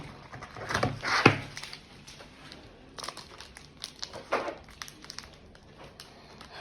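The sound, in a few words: candy bar wrapper being opened, crinkling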